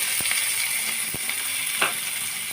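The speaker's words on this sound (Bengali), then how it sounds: "কাঁচামরিচ দিয়ে আমি ভালোভাবে নেড়ে চেড়ে লাল লাল করে ভেজে" Chopped onion and garlic paste fry in oil in a pan, a steady close sizzle broken by a few soft scrapes as they are moved around.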